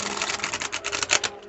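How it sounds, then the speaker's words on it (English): A quick shuffle of a Gods and Guardians oracle card deck: a close, dense burst of crisp rapid card flicks and rattling lasting about a second and a half, with no talking. "Let me give this a quick shuffle."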